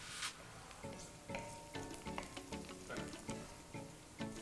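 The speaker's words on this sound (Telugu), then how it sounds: "నేను వీటిని డార్క్ బ్రౌన్ వచ్చేంత వరకు వేయించుకుంటా" Onions frying in a pan for Telangana-style mutton fry, a steady sizzle broken by repeated rhythmic scraping strokes of a spatula stirring them, close and fairly loud with no talking.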